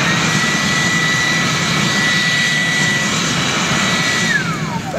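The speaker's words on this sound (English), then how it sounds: "now I'm gonna turn my blower on and watch this" A blower roars steadily on a homemade waste oil drip forge burner, a loud, continuous broadband rush with a faint high whine that drops in pitch near the end.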